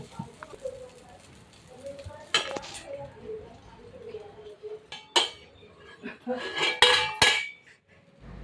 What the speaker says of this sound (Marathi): आपे पात्राला वरनं झाकण घालून नंतर आपे शिजवण्यासाठी ठेवायचे